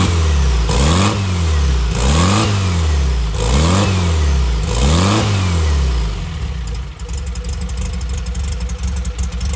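Supercharged car engine on a test bench, revved in four quick throttle blips that rise and fall, then settling into a steady rough idle; loud and close, no talk.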